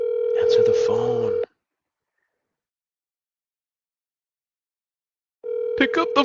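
Ringback tones from an unanswered phone call: a steady, humming tone at the start and another near the end, with a long silent gap between them. Someone speaks over both tones.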